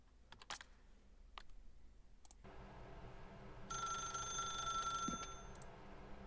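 A telephone rings inside a video game, a bright electronic trill of steady tones that rises over a room hum and then cuts off abruptly, with a few sharp keyboard-like clicks beforehand.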